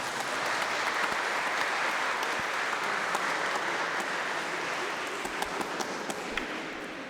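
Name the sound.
applause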